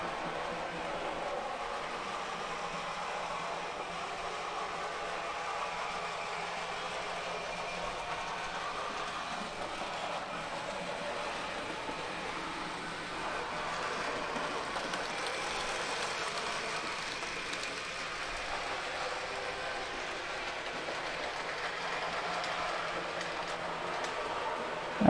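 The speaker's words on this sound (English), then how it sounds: "sorry about the noise, it's an older loco." An older N gauge model locomotive runs along its track, giving off a steady, continuous mechanical whir and rail clatter at even loudness for the whole stretch, with no talking.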